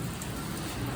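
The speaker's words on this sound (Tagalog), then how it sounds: "Nagpaulan-ulan." Steady rain falling outdoors by a rooftop garden, a continuous dense hiss of drops spread evenly across the second with no distinct individual hits and no voices.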